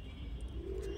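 A male Madrasi pigeon gives a low, drawn-out coo that swells near the end of a brief moment, close by against a constant background hum.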